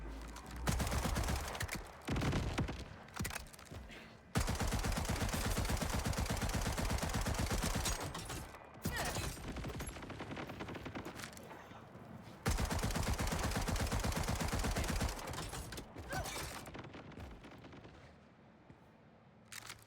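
SMG gunfire from the video game Borderlands 4 rattles in dense, rapid bursts, several long sustained sprays separated by short gaps, loud and close throughout.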